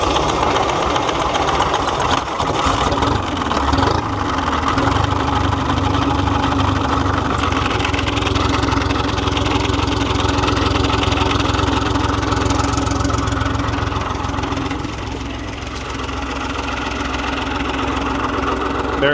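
A 1940s bulldozer with a 371 engine running at idle, a loud steady rumbling drone with a slight dip in level toward the end.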